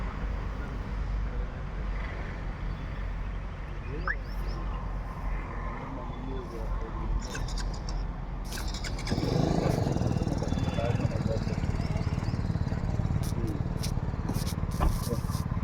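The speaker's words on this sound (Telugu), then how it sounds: "చూసారా, వెళ్తుంది ఒక బండి అయితే" A motorbike passing on a street, its engine noise swelling and staying loud from about nine seconds on over steady outdoor background hum, with brief voices in the mix.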